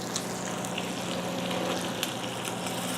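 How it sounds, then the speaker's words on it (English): Steak sears in a hot pan with a dense, continuous sizzle and hiss, steady and close, with a few faint pops and no talk. "I'm really just trying to sear the outside"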